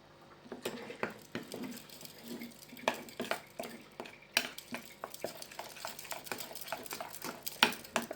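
A spoon scrapes and clinks through a thick fish masala mixture for pomfret in a pan, irregular close stirring taps and scrapes repeating, no talk.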